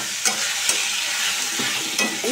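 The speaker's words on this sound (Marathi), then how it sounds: "बटाटे आपण चांगले परतून घेऊया. गॅसची फ्लेम मी मोठीच ठेवली आहे" Potatoes stir-fried on high flame sizzle loudly and continuously, up close, with repeated scraping strokes of a spatula cutting through the hiss.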